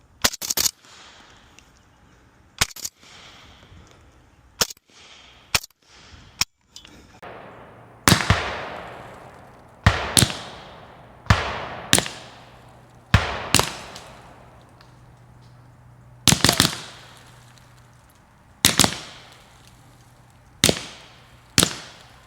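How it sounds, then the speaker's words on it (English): Sharp, loud cracks of subsonic 300 Blackout rounds fired from an 8-inch PSA Krink arrive one at a time and in short bursts, each snapping past the camera with a brief whoosh, over faint background noise. "You'll see what it sounds like to be shot at with 300 Blackout out of an 8-inch Krink."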